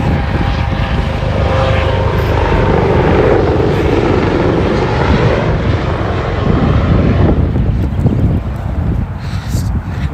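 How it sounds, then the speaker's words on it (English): Helicopters flying overhead during an outdoor run, a loud, continuous rotor and engine drone that stays steady and close for the whole stretch, then thins slightly near the end. "No idea what those helicopters are"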